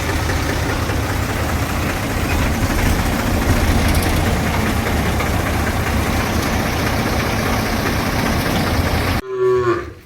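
A tractor engine runs steadily at a cow shelter temple, a loud, continuous rumbling drone that cuts off abruptly near the end.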